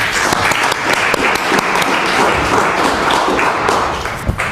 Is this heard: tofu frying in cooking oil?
no